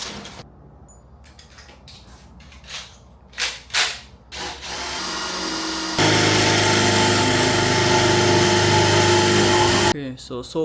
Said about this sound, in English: I think it might even be better if we drill these out now.